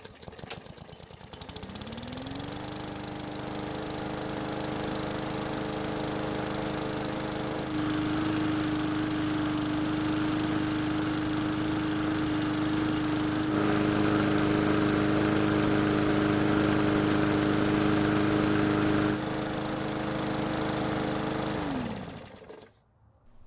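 A Yard Machines lawn mower engine, hot after running, starts and holds a steady loud drone for about twenty seconds, with small shifts in tone along the way, then winds down and shuts off near the end.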